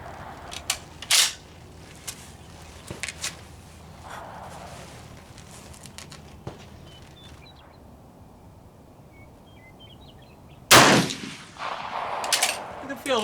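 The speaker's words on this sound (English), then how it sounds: "just curious to see how K31 will shoot that heavy a bullet." Swiss K31 rifle firing heavy 200 grain rounds at an outdoor range: a few sharp reports early on, then one loud close crack near the end, amid quiet outdoor ambience with faint birdsong.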